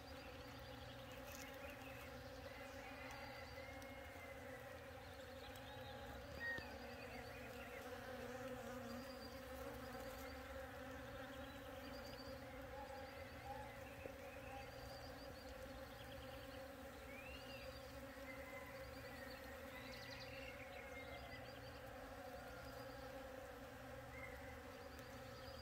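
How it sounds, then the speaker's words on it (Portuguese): Stinging bees buzz continuously at six in the morning in spring, a dense, even hum from many insects close by, with no voices. "Essas aqui são as com ferrão, né? Elas começam bem cedo."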